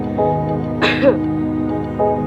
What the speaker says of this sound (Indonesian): saya akan contohkan bagaimana pasien ketika melakukan batuk yang kuat